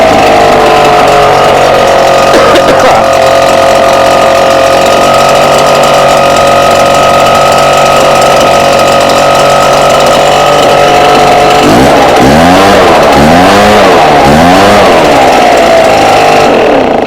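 A Redmax EBZ8550 backpack blower engine runs loudly and steadily close by, then its pitch surges and dips in repeated throttle blips toward the end.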